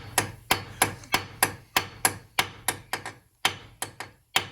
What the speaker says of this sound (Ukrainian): Стукуєш датчик.